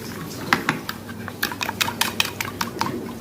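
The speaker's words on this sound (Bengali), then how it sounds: "এবার এই ব্যাটারটাকে একটু ভালো করে ফাটিয়ে নেবো, পুরো মিশিয়ে নেবো মশলার সাথে দইটাকে বেশ সুন্দর করে।" A spoon stirs and beats yogurt batter seasoned with salt and spices in a bowl, producing a quick series of close, bright clinks and scrapes at an uneven rhythm with no voices.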